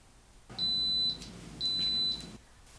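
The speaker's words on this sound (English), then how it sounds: "our cooker has indicated that it's done. It just beeped at us." Electric pressure cooker cooking applesauce gives two steady high electronic beeps, each about half a second long, close by and clear, with a low hum beneath and no talking.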